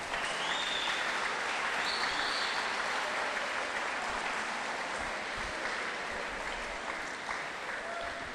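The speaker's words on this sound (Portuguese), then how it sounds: "Dê um aplauso ao Senhor aí pela vida do Fabinho." A church congregation applauding during a sermon, a continuous dense wash of clapping that stays steady and fairly loud throughout, with faint voices mixed in.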